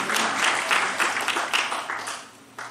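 A congregation at a church service bursts into applause, a dense wash of clapping with rhythmic surges that fades somewhat before a final burst at the end.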